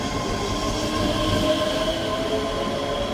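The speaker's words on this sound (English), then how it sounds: "Departing out now is the 10:03 Scotrail service from Glasgow Queen Street to Edinburgh" Scotrail train departing Edinburgh Haymarket station, a steady rolling rumble with faint wheel squeal and rail noise, continuous and fairly close throughout, with no talking.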